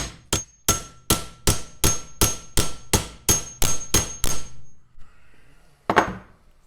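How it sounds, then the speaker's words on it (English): Hammer pounding a pin down into a 1967 Firebird door hinge held in a vise, about a dozen sharp metallic blows in quick regular succession, close and loud, then a pause and one final strike. "Get it over that hole and pound that down."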